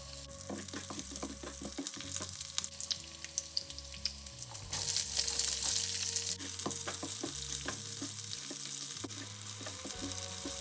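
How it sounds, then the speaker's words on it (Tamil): Continuous sizzling of mustard seeds, cumin, onion, curry leaves and green chillies frying in hot oil, with crackles and pops and occasional stirring clatter, close up and steady throughout. "கடுகு, சீரகம், வெங்காயம், கருவேப்பிலை, சித்தமிளகாய் எல்லாம் போட்டு தாளிச்சிருக்கோம்"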